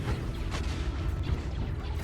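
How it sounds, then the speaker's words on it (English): Heavy blaster and turbolaser gunfire in the space strategy game Stellaris during a large fleet battle, a dense, continuous barrage of booming shots with no talking. "That is a lot of gunfire."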